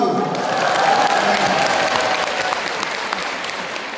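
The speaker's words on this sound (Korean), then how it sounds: "동의하시면 박수" Audience applause after a joke at a talk, steady dense clapping from a crowd filling the room at full strength for several seconds before easing slightly toward the end.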